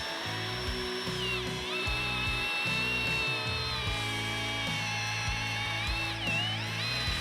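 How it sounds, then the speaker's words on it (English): A power drill bores steadily through a wooden fence post while building a high tensile fence H brace, its motor whining continuously with pitch dips as the bit bites and the load shifts. "She's going to drill all the way through until she's just started into the other"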